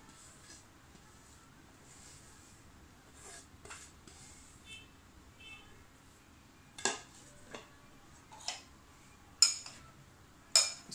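Spoon stirring chopped ingredients through cooked black chickpeas in a metal pot, with soft scraping followed by a run of sharp, distinct clinks against the pot that grow louder toward the end; no voices.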